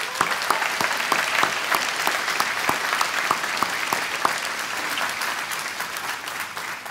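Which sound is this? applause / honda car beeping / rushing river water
applause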